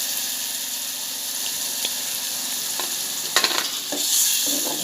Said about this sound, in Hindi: ये देखिए, मसाला अच्छे से पक रहा है।